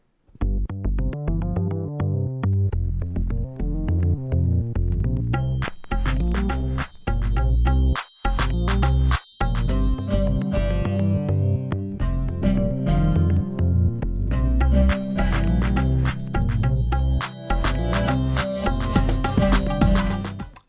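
Music played back from a lathe cut vinyl record and from its original source audio, loud and continuous, with dense full-range instruments and no talking.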